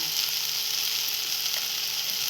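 Onion and tomato sizzle steadily in a pan as homemade masala is added for a sweet, sour and spicy chutney, a close, continuous frying hiss with no talk.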